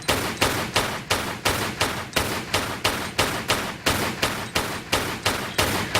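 Rapid, evenly spaced gunshots from a Tomb Raider level fired at a crocodile, about a dozen loud cracks in a steady rhythm with no talk over them.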